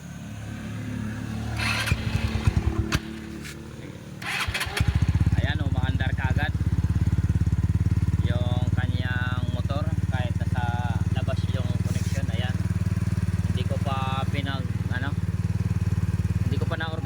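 A motorcycle with a repaired stator coil cranks with rough mechanical rattling, then catches and settles into a steady, close idle that carries on throughout. People talk over the running engine.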